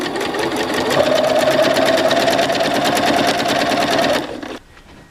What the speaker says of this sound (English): I'm just using this stitching as my guide right up against the presser foot